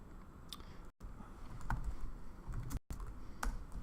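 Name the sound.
typing headings on a computer keyboard in Word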